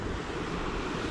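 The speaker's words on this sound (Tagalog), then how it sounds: "rumaragasa na naman tubig" Rushing water rolls past in a steady, loud broadband roar, unbroken and close, with no voices.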